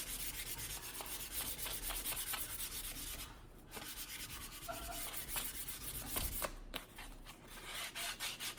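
Steady scraping rub of sandpaper over a wooden hammer handle, close and continuous with brief pauses and rhythmic strokes, smoothing rough spots.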